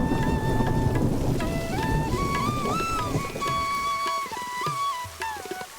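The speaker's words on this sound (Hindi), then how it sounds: "बरसात शुरू हो जाती है।" Rain begins to fall outdoors during a lightning storm, a steady broadband wash of drops that stays loud throughout and thins slightly toward the end, overlaid by a melodic tonal line that rises and falls above it.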